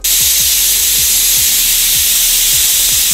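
A pressure cooker full of rajma hisses loudly and steadily as it releases steam after its whistle, a dense, unbroken rush close by, with low rhythmic thumps of the rattling weight pulsing beneath it and no voices.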